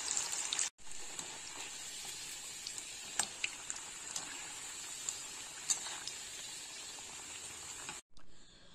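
Lentil badi nuggets fry in hot oil in a kadai with a steady, soft hiss and occasional faint crackles and pops throughout.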